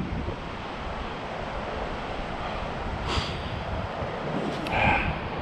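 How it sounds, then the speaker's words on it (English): A waterfall in the windy, rainy Lake District gives a steady broadband rush, with gusts of wind buffeting close by and no talk. "There's a nice waterfall over there."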